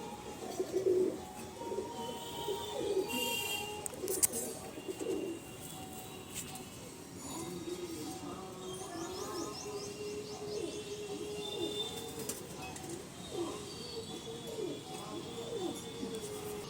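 Several pigeons in a pigeon loft coo softly nearby in low, rolling repeated calls, with faint chirps and light rustling scattered throughout.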